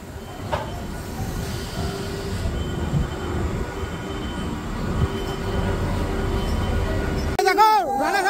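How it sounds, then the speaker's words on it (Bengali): The Sealdah–Jalpaiguri Road Humsafar Express rolls into Ranaghat station, a close, steady rumble of wheels and carriages with some squealing, ending in a sharp, wavering tonal burst. "জলপাইগুড়ি রোড থেকে সরাসরি রানাঘাটে ট্রেন এই মুহূর্তে ঢুকলো"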